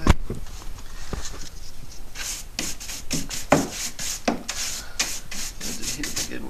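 Wooden canoe gunwales being hand-sanded, with steady scratchy rubbing strokes in a repeating rhythm, close and moderately loud, with no talking.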